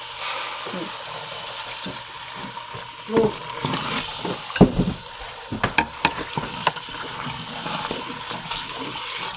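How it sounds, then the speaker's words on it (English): Broth is scooped into a pot of Louisiana gumbo a little at a time, bringing soft splashes, liquid stirring and a low simmering sizzle, with a few sharper clinks and sloshes clustered near the middle. "now we're just adding a scoop of broth, just a little bit at a time"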